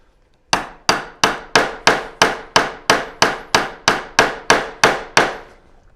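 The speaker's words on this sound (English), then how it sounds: "these are direct hits on the glass" A dozen sharp, evenly spaced hard knocks strike a 3mm low-iron glass bezel ring, each a loud ringing impact with a quick decay, repeating steadily at about two per second with no voices.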